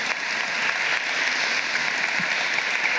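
Applause from a seated audience at a civic ceremony honoring Carl B. Stokes, a steady, even wash of many hands clapping at moderate distance, sustained without a break.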